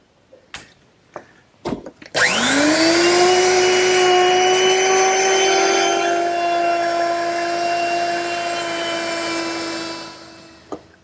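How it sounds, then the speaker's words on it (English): A woodworking router fitted with a 1/2 inch round-over bit shapes the edge of a wooden armrest on an English garden bench. A few sharp knocks come first, then the motor spins up into a loud, steady, close whine that holds for about eight seconds and tapers off. "I'll simply use my router, which is set up with a 1/2 inch rounding over bit"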